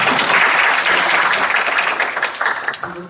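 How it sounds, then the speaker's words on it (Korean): An audience at a talk event on women in baseball gives loud, sustained applause as a guest is introduced, dense clapping that begins to thin toward the end. "다시 한번 큰 박수."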